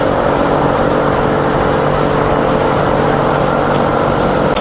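A motorcycle engine running steadily at speed on a highway group ride with five riders, a broad continuous roar with heavy wind rush and a low engine hum, sustained and loud throughout.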